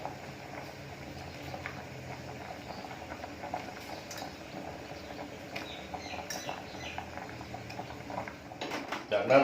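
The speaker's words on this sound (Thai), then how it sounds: "อันนี้น้ำเดือดดีแล้วนะครับ" Steady bubbling of water at a rolling boil in a pot for Thai kaeng liang soup, continuous and close, with a few clinks of utensils near the end.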